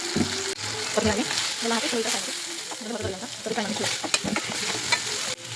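Spices with turmeric, salt and chili powder sizzle in a pan for a festival home-cooked dish, with a spoon scraping and stirring in an irregular rhythm, close and steady.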